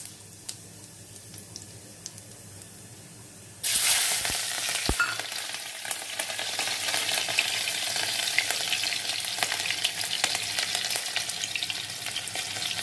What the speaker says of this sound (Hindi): हमने कढ़ाई चढ़ा दी थी, और इसमें ये हम जीरा डालेंगे